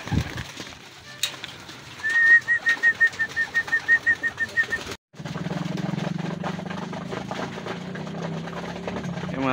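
Hungry pigeons cooing in a rapid, pulsing run of calls that rises above a busy background during a feeding at a racing-pigeon loft, followed by a brief gap and then a steady mechanical rumble.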